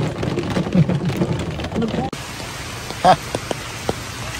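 Steady rain falls in Honolulu, a dense hiss that drops to a lighter patter partway through, with a few louder knocks of drops near the end.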